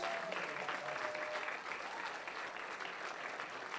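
Audience applause for a college jazz band at an evening spring concert, a dense, steady wash of many hands clapping that fills the whole stretch at even loudness.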